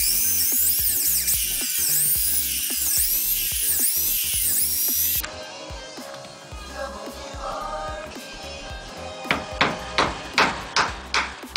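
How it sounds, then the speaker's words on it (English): Power drill boring a pilot hole, a bit just under a quarter inch, into a heavy wooden gate for a hinge; a loud, steady whine runs about five seconds, then rough grinding and a string of sharp knocks follow. "a drill bit that's just a little smaller than 1/4 inch"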